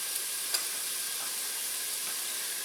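Onion cooking in bacon fat in a pan gives a soft, steady sizzle and hiss, faint and continuous, with an occasional small tap.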